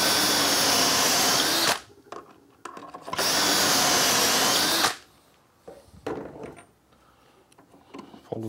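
Two separate bursts of a power drill boring dowel holes through a Dowelmax jig, each about two seconds long, with quiet clatter and handling knocks between and after them.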